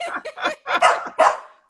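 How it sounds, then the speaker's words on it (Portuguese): Dogs bark close by in a rapid burst of about five sharp, loud barks with brief gaps between them. "Segura as cachorras aí agora, Beta, por favor, para um latinho."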